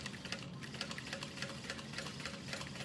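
A sewing machine stitches straight down the center of thick layered fabric on a bucket bag connector, with a steady rapid mechanical chatter running continuously, close and fairly quiet.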